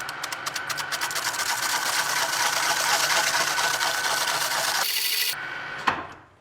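Lathe spinning aluminium foil into a frying pan, with a steady whirring, rubbing machine drone and rapid ticking that cuts off abruptly, followed by a single clunk as it winds down.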